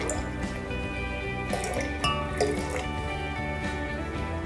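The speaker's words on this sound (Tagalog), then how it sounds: "Ihalo ko doon sa mga tubig na merong chlorine" Liquid is poured and stirred into a container of chlorinated water, with light drips, sloshes and occasional glass clinks over a steady background hum, fairly close.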